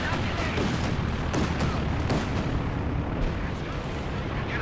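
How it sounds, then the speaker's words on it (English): A battlefield artillery barrage in Company of Heroes 2 keeps up dense, overlapping explosions and crackling gunfire from start to finish, loud and continuous with a faint voice mixed underneath. "Any artillery down on here."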